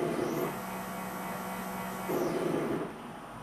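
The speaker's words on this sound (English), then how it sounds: "I'm gonna see if I can spin the motors now using the software." A CNC router's X-axis stepper motor spinning under software control, giving a steady low electrical hum with a slightly louder whine at the start and again near the end, alone and fairly quiet.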